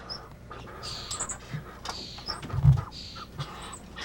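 A healthy young crow gives short rasping calls and squawks in a quiet indoor setting, with several brief harsh bursts and a low thump, close and not very loud, with no talk.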